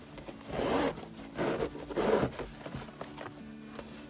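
Zipper on a small quilted, egg-shaped fabric coin pouch, pulled in three quick rasping runs followed by softer fumbling and rubbing.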